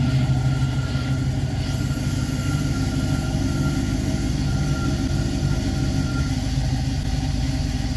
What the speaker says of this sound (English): is the air canister in the back filling up.